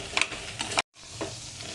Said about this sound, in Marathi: एक घरगुती लाल मिरची पावडर घातलेली आहे छान याला परतून घ्यायचं आहे